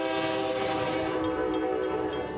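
A train sounds its horn in the coastal towns of New London and Groton, Connecticut, a loud sustained blast with rumbling rail noise beneath, close and continuous throughout.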